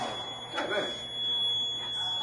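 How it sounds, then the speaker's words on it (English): A steady high electronic beeping tone from a fire alarm panel runs throughout, with muffled voices in the background. "Go ahead and acknowledge just so we can stop the beeping here locally."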